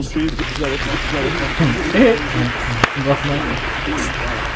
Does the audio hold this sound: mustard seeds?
no